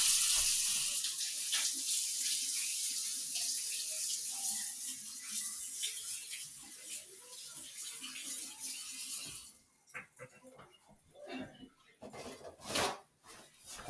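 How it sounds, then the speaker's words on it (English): Water runs steadily from a sink faucet while hands are washed, a close, full splashing hiss that cuts off near the end, leaving brief faint handling sounds. "Here, Mitch, go ahead and turn the sink on for me."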